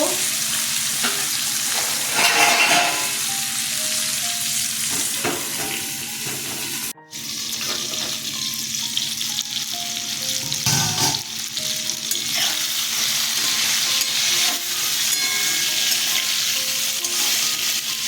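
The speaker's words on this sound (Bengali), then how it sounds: "বেগুনগুলো ভাজা হয়ে গেছে" Eggplant pieces fry in oil in a pan, producing a loud, steady sizzle with bursts of crackling and a few clatters, continuous apart from a brief break, with no voices.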